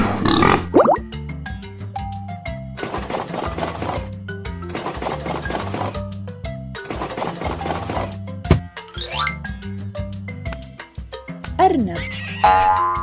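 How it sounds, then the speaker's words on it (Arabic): A farmyard pig grunts and oinks in short bursts, set among other farm animal calls over a steady musical backing, with a voice naming animals nearby. "خنزير."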